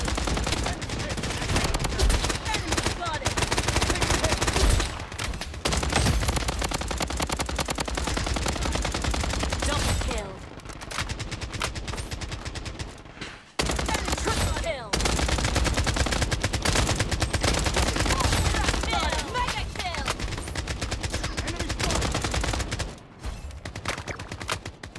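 Rapid automatic gunfire from the mobile shooter Blood Strike, bursts of shots repeating densely and loudly across the whole stretch, with brief gaps and quieter dips between volleys.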